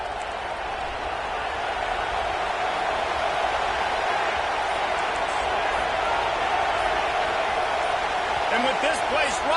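A stadium crowd roars steadily in a college football video game, a dense, continuous wall of noise that holds loud and unbroken from start to finish.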